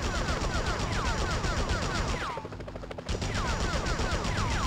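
Rapid gunfire from the PS1 video game Spider-Man rattles in steady repeated bursts, loud and continuous, briefly dropping away in the middle before the shooting resumes.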